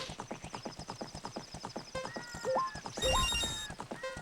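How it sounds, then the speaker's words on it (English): Hooves of a horse trotting in The Legend of Zelda: Ocarina of Time, a quick steady clip-clop rhythm with a whinny and bright chiming game effects near the end, no talking. "I'm going to park my horse."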